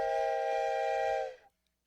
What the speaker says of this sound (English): Yep, that's my train whistle from,